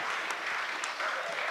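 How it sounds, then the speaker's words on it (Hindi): Sustained clapping from an audience at a Hindi poetry recital in Malwa, following the end of a poem, dense and steady throughout with no talk over it. "वो कविता खत्म हो गई, ताली बजाओ।"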